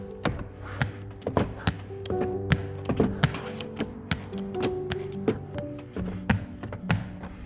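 Car door panel being tapped and knocked back into place by hand during front window tinting, a run of sharp close taps and dull thuds at an irregular rhythm, with faint background hum.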